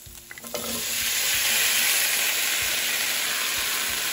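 Mint leaves and potatoes fry in a hot pan, a bright steady sizzle that swells after a few initial clinks and stirs and holds loudly to the end.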